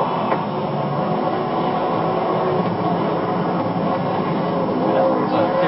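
A NASCAR race car does a victory burnout, a continuous roaring engine and tire rumble heard from a distance through broadcast audio, with faint crowd noise and commentary voices underneath.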